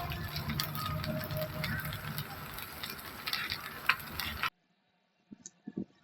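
Chopped onions fry in a spoonful of oil on a sprouts dosa, making a steady, faint hiss with small clicks for about four seconds, then near silence with a few light taps.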